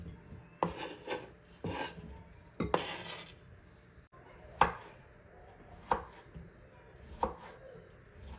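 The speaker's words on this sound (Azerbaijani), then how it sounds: "4 kökümü də orta boyda doğrayıb kartofun üzərinə əlavə edirəm." Orange carrots, large ones, are chopped into medium pieces with a knife for a beetroot and potato vinegret salad: a sparse, irregular series of crisp cuts against a board, close and fairly quiet, with no talk.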